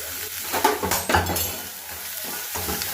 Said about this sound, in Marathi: थोडंसं तेलावर परतून घेते मी त्याला व्यवस्थित. गॅस फास्टच ठेवायचा आहे